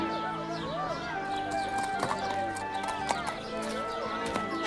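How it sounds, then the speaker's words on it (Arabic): Hooves of Arabian horses clip-clop steadily at a market, a busy rhythmic clatter mixed with background music and ambient noise. "هذه يا سيدي أفضل الخيول العربية"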